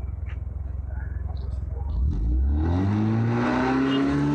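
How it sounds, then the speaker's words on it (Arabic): A Fiat Regata engine, its carburetor just tuned for air and fuel, idles with a steady pulse, then revs up smoothly to a sustained higher drone close by. "او تسمعوا صوت الموتور اللي انتوا شايفينه"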